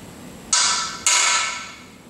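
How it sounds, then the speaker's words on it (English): A dead blow hammer strikes a freeze plug into an engine block during an engine build, two sharp broadband impacts about half a second apart, each ringing briefly and fading, close and clear with no talk. "A dead blow hammer works really good too."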